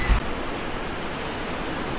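Calm Irish Sea waves washing onto the beach at Blackpool near the North Pier, a steady close hiss of surf with wind rumble and a brief thump at the start, no voices.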